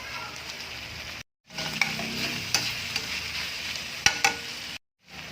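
Mixed vegetables with cabbage stir-fry in a pan, a steady sizzle broken by scraping, clattering stirs of the utensil against the pan, close and fairly loud with no voice over it.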